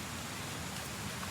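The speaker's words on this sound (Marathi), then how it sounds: "पाऊस लागली वाटतं येऊ नको" Rain falls in a steady, dense hiss at the Ghonsari waterfall area in Kankavli. The sound is broadband and continuous, and no one speaks.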